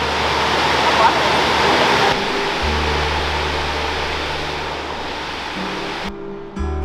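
Waterfall at Silver Falls State Park pouring into a pool, a dense steady rushing wash that stays loud and even, with a change in tone near the end.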